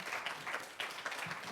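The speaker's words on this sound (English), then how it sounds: "give them a nice thank you round of applause" A campus science-talk audience gives a quiet round of applause, soft scattered clapping from many hands at a distance, faint and uneven.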